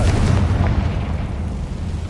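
A Confringo fire spell explodes in the Hogwarts Legacy video game, a deep rumbling boom at the start that fades into a dense, lingering roar.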